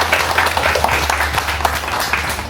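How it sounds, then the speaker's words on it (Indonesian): A seminar audience at an eco-print workshop gives a short burst of lively clapping for the event's sponsors. The applause is steady and close, with a low electrical hum underneath. "mari kita berikan tepukan yang meriah untuk seluruh mitra yang telah mendukung terselenggaranya kegiatan"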